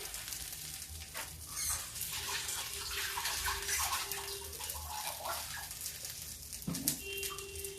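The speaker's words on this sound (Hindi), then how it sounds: "हाथ क्लीन करते हैं।" Hands being rinsed under a running kitchen tap, a soft steady stream of water splashing with uneven surges and a few faint clinks, quiet and somewhat distant, no speech.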